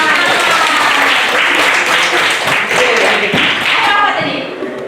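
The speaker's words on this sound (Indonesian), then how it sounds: "Tepuk tangan." A crowd at a 2024 church catechesis session claps loudly and densely throughout, a steady roar of applause that tapers slightly at the end.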